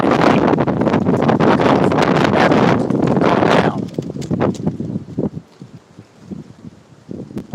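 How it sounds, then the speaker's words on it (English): Strong wind gusts buffet the microphone at an outdoor geode collecting site in the northeastern Missouri area, loud and continuous at first, then dropping to a lighter, patchy rush. "Ooh, that wind."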